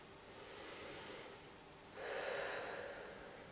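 Breathing during a posture exercise session: two long, steady airy breaths, a softer one first and a louder, broader exhalation after, close and alone with no talk.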